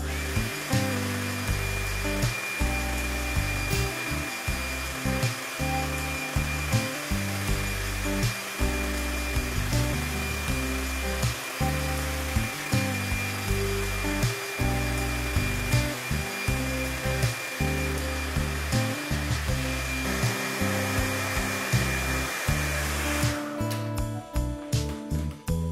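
A hair dryer heats the adhesive of a sticker on a refrigerator door, blowing in a steady, loud, continuous whir with a constant pitch that runs uninterrupted for the whole stretch, shifting slightly near the end.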